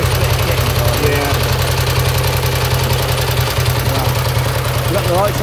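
A 1931 BSA OHV Sloper 500cc single-cylinder motorcycle engine idling close by with a loud, steady, rapid thumping beat and mechanical clatter, while someone speaks over it.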